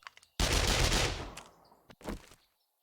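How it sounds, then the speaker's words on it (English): SMG with a very high rate of fire in the video game 7 Days to Die: a dense, rapid burst of gunfire lasting about a second, then fading, with a short second burst afterward and a few faint clicks. "this is the SMG, which again goes back to Gunslinger. Has a very high rate of fire."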